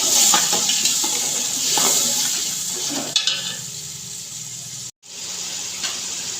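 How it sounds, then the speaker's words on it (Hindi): Masala paste of ginger, garlic, tomato and chili frying in oil in a pan, giving a steady sizzle with occasional stirring scrapes that briefly cut out near the end. "यहाँ पर मसाले को 2 से 3 मिनट मैं अच्छे से फ्राई करूँगी।"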